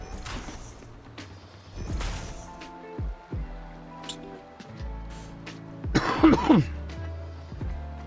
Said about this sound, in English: you're going to hear me cough every now and again